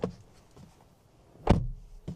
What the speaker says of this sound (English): One gripe with it is when you close the door